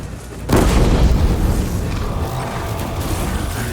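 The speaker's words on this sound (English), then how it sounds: "let me just shoot the disc launcher" A disc launcher is fired in the video game Horizon Zero Dawn, setting off a loud booming explosion whose heavy blast hits suddenly and then rumbles and decays across the remaining seconds.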